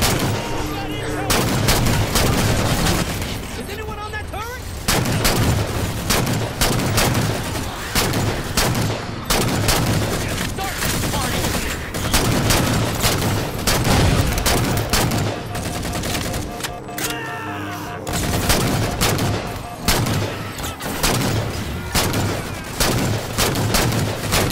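Dense gunfire during a firefight in the video game Halo 4, with loud, continuous automatic and rapid weapon bursts, heavy impacts and booms stacked through the whole stretch.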